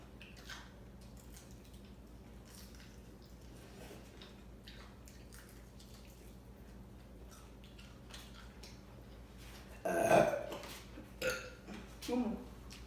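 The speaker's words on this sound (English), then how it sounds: "This is a food burp challenge." During a Chinese food mukbang, a person lets out a loud, close burp after a long stretch of quiet eating sounds and light clicks, followed by two shorter burp-like bursts.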